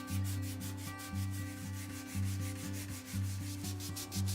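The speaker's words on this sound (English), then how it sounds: "Hand sanding this took a really long time, especially because of all those details we had to sand around." Sandpaper of 60 grit is rubbed by hand over a fragile vintage wooden vanity, giving close, loud rhythmic scraping strokes about one per second, each a gritty rasp over a low droning hum, with no speech.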